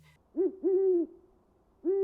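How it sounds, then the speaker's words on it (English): An owl gives three clear hoots, each a sustained tonal call with a slight rise and fall, the first two close together and the third after a pause, loud and near against a quiet background. "Owls carried an especially heavy weight in this tradition."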